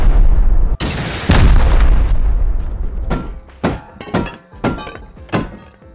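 Satchel charges go off in a video game: a deep, heavy boom with a long rumbling tail, followed by several shorter, sharper blasts in an uneven sequence, loud and close.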